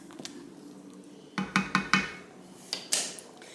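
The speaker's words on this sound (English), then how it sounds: "I'm going to give this one last stir for now" A spoon knocks and scrapes around a pot of boiling potato soup with cheese, sour cream and bacon, giving four close, distinct clinks in quick succession, then a couple of softer taps.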